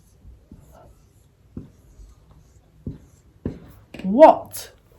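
A pen or pencil writes a short word on paper in a phonics lesson, soft close scratching strokes in brief bursts, ending with a louder spoken voice.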